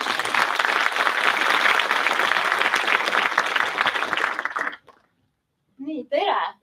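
Dense applause from a conference audience welcoming an LHV bank macro-analyst to the stage, steady and loud for about five seconds before cutting off abruptly, followed by a short silence and then a voice speaking.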